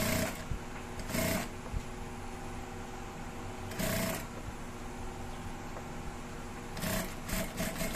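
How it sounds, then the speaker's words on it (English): Sewing machine stitching down a double-folded hem on boxer shorts fabric, running steadily with brief louder bursts of motor whir recurring at intervals, no talking. "So we're sewing this down to the ending."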